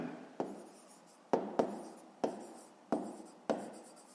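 Pen scratching across a notebook page while a fifth-grade maths exercise is worked out, heard as about six short, crisp bursts of strokes at an uneven pace, close and quiet, with no talking.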